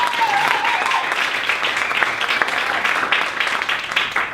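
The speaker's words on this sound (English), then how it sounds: "Keep clapping for your host, Dan," Comedy club audience clapping for the show's host, a dense, steady wash of applause close by with a few faint voices mixed in, fading slightly toward the end.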